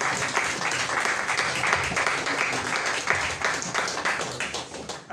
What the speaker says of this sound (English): can we just take a minute to give the Leone Stars a round of applause